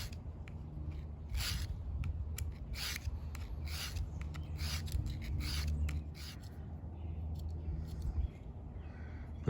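The spine of a Stanley 10-049 pocketknife is drawn across the coarse side of a sharpener, giving about ten quick, close, rasping scrapes in a steady back-and-forth rhythm over a quiet background.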